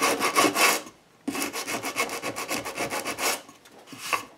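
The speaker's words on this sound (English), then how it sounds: "And I'm going to just go in and sand that a little bit." Steady back-and-forth scraping of a sanding block over hardened texture paste on artwork, in quick rhythmic strokes with a brief pause, close and fairly loud.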